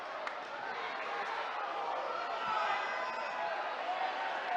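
A crowd at a high school basketball game, Waynesboro at Greencastle, keeps up a steady wash of jeering and murmuring noise at a moderate distance, with no distinct individual shouts standing out.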